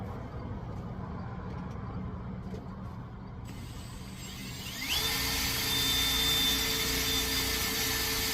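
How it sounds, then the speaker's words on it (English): A power drill spins up partway through, its steady whining motor hum rising sharply in loudness over a low rumbling background and holding close and constant to the end. "I'm going to grab my drill"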